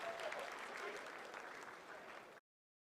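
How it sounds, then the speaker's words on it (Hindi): Sustained applause fills ISRO mission control during the Chandrayaan-3 lunar landing's vertical descent phase, a dense, steady clatter of many hands that holds loud and even before cutting off abruptly. "आप तालियों के गड़गड़ाहट से सुन सकते हैं"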